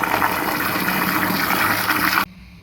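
Water gushes loudly into a vessel of rice being soaked for mutton biryani, a dense steady splashing pour that ends sharply after about two seconds.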